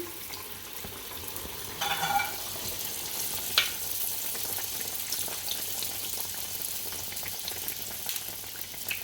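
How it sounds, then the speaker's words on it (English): Aloo pies frying in hot oil give a soft, steady sizzle, fairly quiet, with a few faint clinks and light spatters over the continuous bubbling. "I'm just going to start frying them now"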